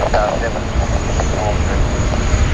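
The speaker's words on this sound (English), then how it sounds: "One of our many Asian Dreamliner operators, Xiamen Air, arriving from Fuzhou." A Xiamen Air Boeing 787 Dreamliner jet arriving at Sydney Airport gives a loud, steady broadband engine roar that holds throughout, with a faint whine above it.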